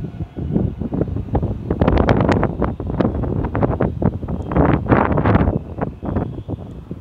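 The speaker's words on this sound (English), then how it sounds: "You can hear the sound of the wind" Gusty wind buffets the microphone on an apartment balcony overlooking a pool and podium, a loud, continuous rushing roar that swells and surges in uneven bursts throughout.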